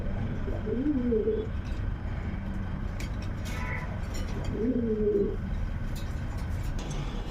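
Two soft, throaty pigeon coos, one early and one later, over a steady background rumble of traffic or ambient noise.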